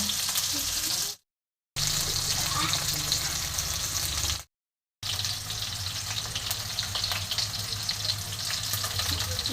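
Raw green tomato frying in a wok, with a steady broadband sizzle that runs throughout, broken twice by brief gaps, and a low rumble beneath it.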